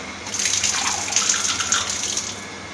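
Water pours steadily into a rooftop tank, a continuous close rushing flow without pause.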